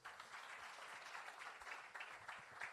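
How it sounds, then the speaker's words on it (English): An audience at a corporate takaful event gives a round of applause, a steady, moderately distant patter of clapping hands lasting a few seconds. "Can you please give a round of applause?"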